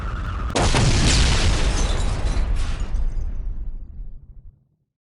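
Explosions in the Warhammer 40,000 Dawn of War video game: a loud, roaring blast rumbles and crackles on with dense debris, then fades out over several seconds.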